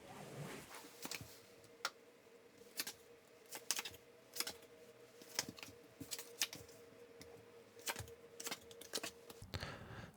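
Tarot cards are handled, shuffled and drawn on a table: a quiet, close series of crisp taps, flicks and slaps arriving irregularly, with no speech over them.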